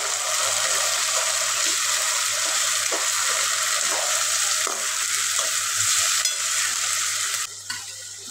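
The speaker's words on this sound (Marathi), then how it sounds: "आता त्यात चवळी घालून घेऊ, जे आपण किचनमधनं शिजवून घेतलेली आहे, आणि चवळी व्यवस्थित मिक्स करून घ्यायचं." Cooked cowpeas being stirred into hot oil in a frying pan, a steady broad sizzle with soft scraping strokes of the spoon running throughout, close and fairly loud, with no voices.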